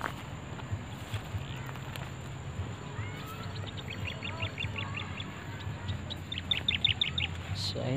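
Short bursts of high chirping calls from a tikling (rail bird) repeat in the middle and near the end, over a steady low rumble of outdoor background noise in overgrown, rocky terrain.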